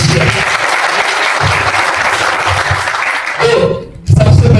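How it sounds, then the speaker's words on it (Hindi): An audience at a college and district industries centre event in Yavatmal breaks into loud, sustained applause that fills the hall, dips briefly near the end, then surges back strongly. "उनके लिए भी एक बार थोड़ी जोरदार तालियां बजा दीजिए"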